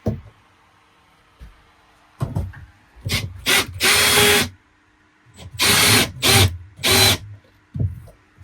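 A power tool drives down the mounting bolts of a replacement RV roof air conditioner in short whirring bursts, some clipped and some sustained for about a second, separated by quiet pauses and light knocks, close and loud.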